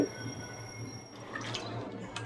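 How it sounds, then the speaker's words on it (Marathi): Wheat grains are washed by hand in a vessel of water, with close dripping and soft splashing trickles as hands stir through the wet grain, no voices. "हे धुवायचे गहू। आता मी धुते"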